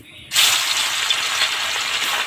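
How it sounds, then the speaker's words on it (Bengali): Fish frying in hot oil in a wok, a loud steady sizzle that bursts in suddenly and continues evenly throughout before cutting off, with no talking. "মাছ আমি ভেজে নিচ্ছি, বড় মাছগুলো আগে ভেজে নেব।"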